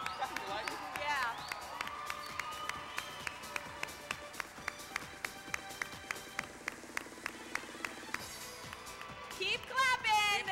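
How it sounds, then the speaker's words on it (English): Audience clapping at a state teen beauty pageant preliminary, a steady rhythmic clap beating through much of the stretch under music and a speaking voice, fairly faint and distant. "Keep clapping."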